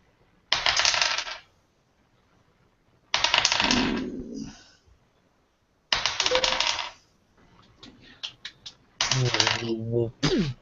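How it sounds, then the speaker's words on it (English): Dice rolled during a tabletop Dungeons & Dragons session, clattering in four separate bursts, each a loud rattle tumbling across a hard surface and settling, with short quiet gaps between. "The sound of dice are very entertaining."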